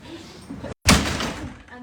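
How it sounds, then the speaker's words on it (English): A door slams shut with a single loud, sharp bang in an indoor space used for a lunchtime strength session, following a brief silence and under ongoing talk. "And that banging door."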